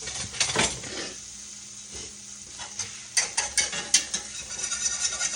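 A whisk scrapes and clacks through a flour gravy in a pan that has too much flour and some lumps, making quick, uneven rhythmic strokes that grow louder and sharper in the second half, with no talking.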